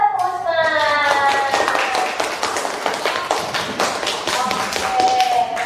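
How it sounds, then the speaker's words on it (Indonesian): A class of young pupils claps together in brisk, uneven bursts of close, loud hand claps, with voices and a shouted cheer mixed in over the applause. "Tepuk tangan untuk kelas 1, Usman."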